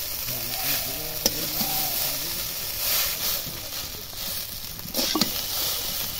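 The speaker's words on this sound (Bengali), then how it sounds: "পেঁয়াজগুলোর সাথে চাউমিনগুলো ভালোভাবে মিশিয়ে নেব।" Egg chow mein noodles being stir-fried with onions in a pan sizzle steadily and close, with rustling tossing and a few sharp utensil clanks against the metal.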